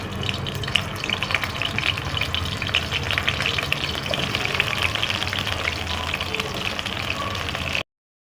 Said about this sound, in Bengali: এই যে কপিগুলো যেটা, ওগুলোকে একটু লাল করে ভেজে নিই।